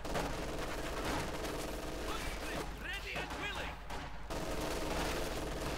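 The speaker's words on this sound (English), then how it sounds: "Lots of machine gun fire there" Machine gun fire in the strategy video game Company of Heroes 2 rattles continuously with dense overlapping bursts and distant battle booms, while a commentator talks over the combat.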